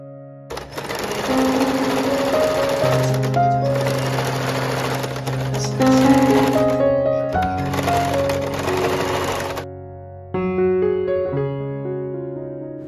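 A sewing machine stitches pajamas made from an old kurti and shirt, loud close bursts of rapid whirring separated by short pauses, ending with a lighter, slower run.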